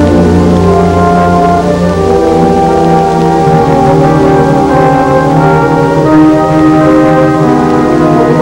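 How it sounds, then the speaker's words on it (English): An ancient Portuguese bell rings from the gilt-domed Old South Tower on Nantucket. Its sustained, resonant tones hum steadily and fairly loudly throughout, with no voices. "recall again the silver voice of the ancient Portuguese bell"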